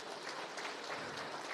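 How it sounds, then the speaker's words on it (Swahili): An audience at a program launch event in Nyandarua County claps in a steady, even burst of applause, heard somewhat faintly and at a distance, with no talking over it. "Tumpigie makofi tafadhali"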